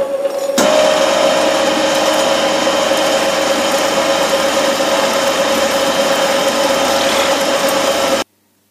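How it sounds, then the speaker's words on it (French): A milling cutter grinds away excess weld on a repaired cardan shaft, giving a loud, steady mechanical whine with a constant tone. It starts abruptly, runs unbroken for several seconds and then cuts off sharply, with no talking. "ici pour fraiser les excédents de soudure"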